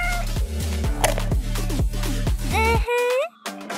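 A cat meows repeatedly, loud and close, its cries rising and bending in pitch over steady background music, with a final sharper meow near the end.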